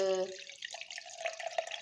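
Boiled and cooled water pours into a container for a homemade moru buttermilk drink, a short, quiet, close trickle and splash after a brief tone.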